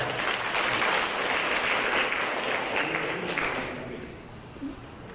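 An audience at a school board meeting on a teacher pay plan claps loudly in a dense burst that gradually thins and fades toward the end, with a murmur of voices underneath.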